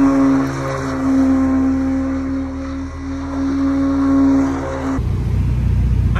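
Expensive car in Florida with its engine droning loudly and steadily up close, then a sharp shift to a rougher, lower roar as it pulls away.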